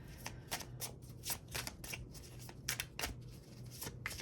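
Tarot cards are shuffled in quick, repeated riffles and flicks, a steady run of crisp papery bursts close to the mic with no talking.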